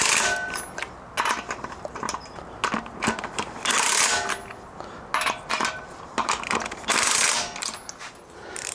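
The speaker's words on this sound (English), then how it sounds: "Now I'm going to go in with the power motor" Power tool running in repeated short bursts while tightening bolts on a budget no-weld spare tire carrier mod, mechanical whirring and ratcheting pulses close by with brief pauses between, no speech.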